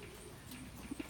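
Racing pigeons in a loft aviary give soft, low cooing notes, faint and brief, over a quiet background rustle.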